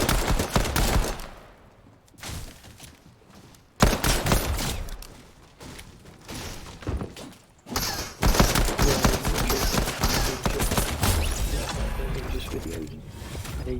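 Pistol fire rings out in a video game match, bursts of rapid, sharp shots and mechanical clacks come in several loud clusters, separated by brief lulls.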